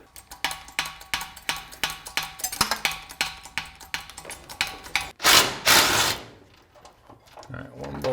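A tool loosens a bolt on an S10 truck with a steady run of close, sharp ratcheting clicks, then a louder burst of metallic scraping, while people talk in the background.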